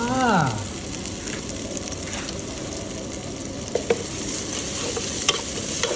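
Chicken being stir-fried in a pan, with a continuous loud sizzle and scraping stir strokes throughout and a few sharp clinks near the end.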